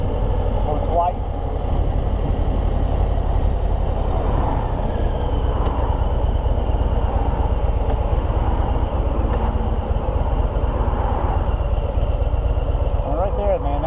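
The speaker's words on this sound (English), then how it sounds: "that was third gear, idled way down, twisted the throttle, and took right off" A Harley Low Rider ST motorcycle pulls away from a low idle in third gear, its engine a steady, close, rumbling drone that runs through the whole stretch with a voice talking over it.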